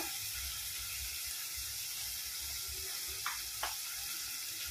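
Steady sizzle of ground coriander, turmeric and chilli powder hitting hot oil in a pan while cooking a vegetarian chhena curry, with a couple of faint clinks of a utensil near the end.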